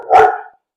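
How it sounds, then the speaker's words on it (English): A dog gives one sharp, close, loud bark that trails off quickly, followed by silence. "The dogs are excited."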